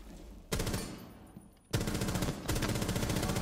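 Sustained automatic gunfire from a Rainbow Six Siege match, loud and close, with bursts starting at about half a second, a brief lull, then dense rapid fire resuming and continuing to the end.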